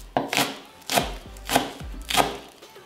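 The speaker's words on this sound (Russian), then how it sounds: "Нарезаем мелко." Four crisp knife strikes finely chopping green onion on a cutting board, evenly spaced about half a second apart, each a sharp close-up chop.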